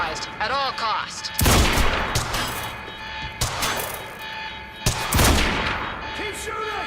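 Gunfire in the video game Quantum Break comes in loud, close bursts of rapid shots, with heavy booming volleys around two spots and lighter distant shots and effects in between.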